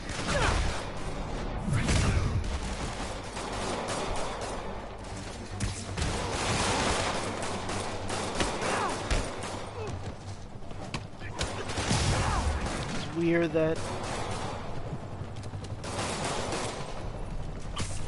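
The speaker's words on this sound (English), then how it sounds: "after all those gunshots, nothing shot him" Gunfire bursts from the Spider-Man video game crackle in short broadband volleys over a steady game soundtrack, with a player talking at times.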